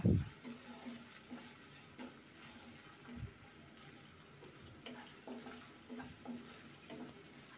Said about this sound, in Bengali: এবার এই তেলের মধ্যে হাফ কাপ পেঁয়াজ কুচি দিয়ে নিলাম। এবার নেড়ে চেড়ে হালকা করে একটু ভেজে নেব।